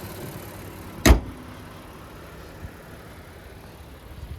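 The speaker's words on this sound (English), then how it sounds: "just a pretty easy hood to open and shut" A single sharp, loud thud from the hood of a 2023 Honda Odyssey Touring minivan with a 3.5-liter V6 being shut, followed by quiet cabin ambience with faint rustles.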